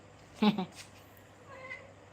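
A cat gives one short meow near the start, followed by a quieter second call, against a faint indoor background of household noise.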